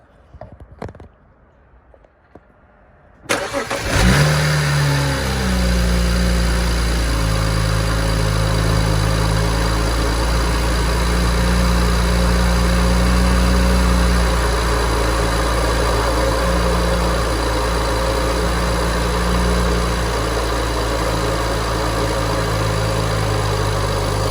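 Quiet faint clicks, then a warm BMW 335i N54 engine fitted with an aftermarket charge pipe and blow-off valve starts and settles into a loud, steady idle with a constant low drone throughout.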